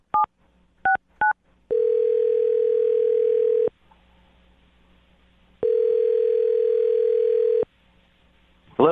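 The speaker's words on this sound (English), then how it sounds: "I'm going to dial the phone number right now." A telephone call begins with a few quick keypad beeps, followed by two long, steady, evenly spaced ringing tones separated by silence, clear and close with no voices.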